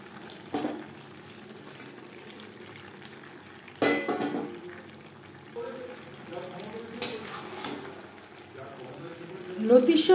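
Fried tilapia slid into a pan of simmering spicy gravy with taro stolons, giving steady close bubbling and sizzling with a sharp clatter partway through and a swell of frying noise near the end; a voice may be faintly present.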